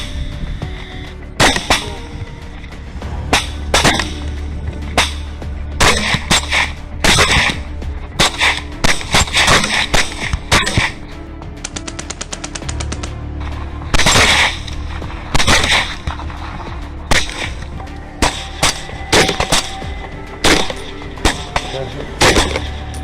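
Hunters firing at wild hogs at night: many sharp gunshots, some in quick rapid bursts and others spaced apart, cracking loudly over a low background hum.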